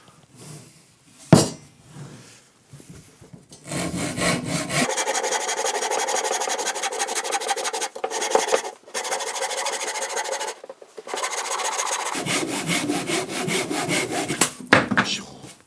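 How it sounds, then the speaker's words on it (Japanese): A Japanese hand saw cuts a wooden tenon in close, rhythmic rasping strokes, played in long continuous bursts broken by brief pauses, with faint knocks at the start and end. "久しぶりにノコこんな引きますね。"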